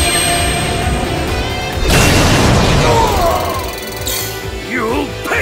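Shooting Star Dragon's Falling Star Slam attack in the Yu-Gi-Oh Duel Links video game: a loud booming impact with crashing bursts and swooping effects, following a voiced call.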